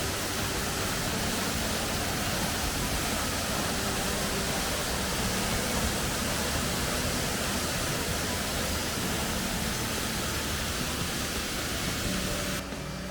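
A small mountain waterfall on a trail to Oskovnica gives a constant, loud rushing hiss of falling water that stays steady and unbroken for the whole stretch, with no voices.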